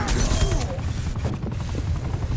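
An attack helicopter fires a sustained burst of automatic gunfire in a Call of Duty Cold War match, dense, rattling shots over a low mechanical rumble with explosions in the mix.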